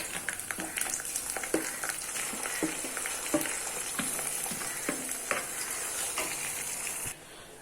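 Chicken liver and onion pieces with a little turmeric fry in a pan over a medium flame, a continuous close sizzle broken by repeated scraping and clinking taps as a spoon stirs, ending abruptly near the close.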